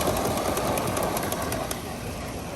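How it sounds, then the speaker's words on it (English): Miniature live steam trains run on a ground-level track at a live steamers park, a steady close rumble of wheels and running gear with faint hissing and birds in the background. "These are the 2 steam trains and the 1 gauge that we talked about."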